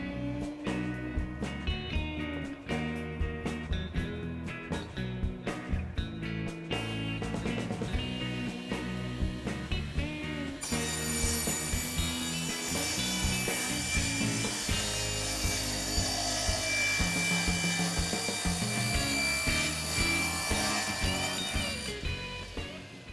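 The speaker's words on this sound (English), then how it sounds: "I'm going to put the dust collection on and we'll make those cuts." A table saw cuts through a wood panel with dust collection running, giving a continuous loud whine and rushing roar that grows brighter partway through and holds steady to the end.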